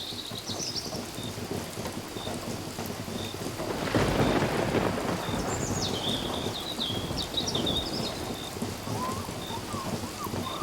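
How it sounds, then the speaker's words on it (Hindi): Steady, even rain pours without pause in a continuous close wash, with a heavier stretch partway through and a few faint bird chirps above it. "बारिश लगातार एक सी, जैसे समय अब घिर रहा हो।"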